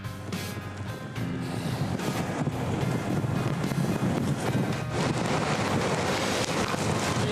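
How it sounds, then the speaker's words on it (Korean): Strong waves surge on the Jeju coast near a staircase down to Sojeongbang Falls, a loud continuous roar of surf mixed with heavy wind buffeting the microphone, swelling after the first second and staying rough throughout. "이곳까지도 때때로 물고 나가실 정도로 파도가 매우 거세게 일고 있습니다"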